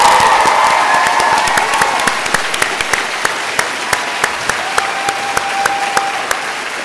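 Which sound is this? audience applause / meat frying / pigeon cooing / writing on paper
audience applause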